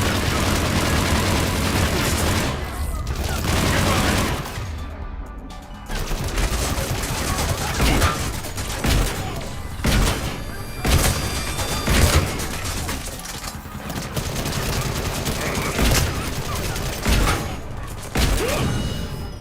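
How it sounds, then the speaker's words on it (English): Loud, sustained gunfire in a Mass Effect 3 firefight, with dense bursts of shots and heavy booming impacts that repeat in waves. A voice is faintly heard under the fighting. "Not the best place for a firefight."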